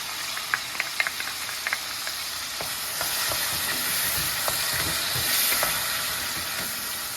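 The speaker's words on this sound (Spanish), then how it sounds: "Ahora le vamos a añadir nuestro sofrito." Sofrito hits ham in a hot pan, bringing a steady bright sizzle with faint hiss and scattered light clicks and scrapes of stirring, no voices over it.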